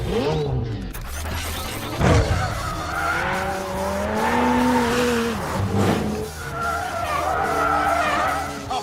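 A McLaren 720S driven hard in track mode: loud, close engine revving rising and falling through gears, with tire squeal and skidding over a sustained, aggressive roar.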